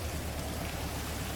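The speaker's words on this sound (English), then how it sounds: "Rain," Steady rain falling across a GTA 5 game world, a dense even hiss of drops on surfaces with no talk, holding at a constant moderate level throughout.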